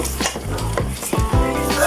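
A utensil stirs and scrapes through chicken tinola boiling in a pot, with clattering and a soft sizzle, close and busy throughout.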